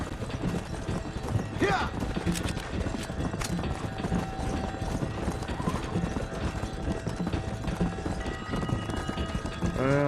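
Horses' hooves clip-clopping in a video game, a continuous rapid galloping patter under game sounds and music, with a person briefly talking over it.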